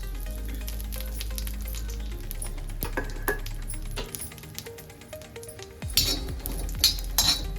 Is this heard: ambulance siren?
no